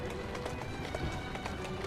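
A horse gallops in Assassin's Creed Syndicate with a steady, quick clip-clop of hooves, close and continuous over rumbling street noise.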